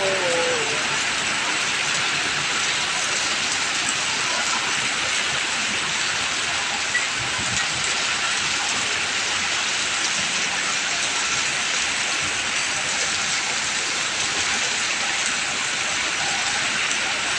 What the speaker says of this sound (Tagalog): Grabe, ang lalak po ng patak ng ulan dito.